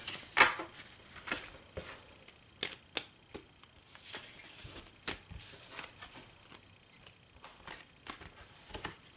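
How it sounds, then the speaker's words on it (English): A deck of game cards for a Legendary Aliens tabletop game being shuffled, soft scattered papery flicks and taps at an irregular rhythm, quiet and close with no talking. "Alright, so let's shuffle this deck."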